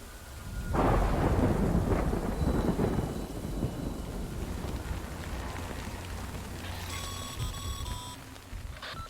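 Thunder rolls loudly across a stormy sky in the video game Death Stranding, a heavy crack followed by a long rumble over steady rain, with a few short electronic beeps near the end.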